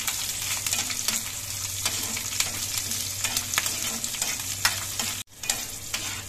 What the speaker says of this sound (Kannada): ಈ ಬೆಳ್ಳುಳ್ಳಿ ಚಂದ ಫ್ರೈ ಆದದ್ದು ಪರಿಮಳ ಬಂದಾಗ ನಾವು ತೆಗೆದು ಇದನ್ನು ಒಂದು ಪ್ಲೇಟಲ್ಲಿ ಹಾಕಿಟ್ಟು ಬಿಡುವ.